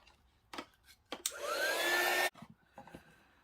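A hair dryer drying glue on a paper craft project blows as a loud, steady whirring burst lasting about a second, with small handling knocks and rustles before and after.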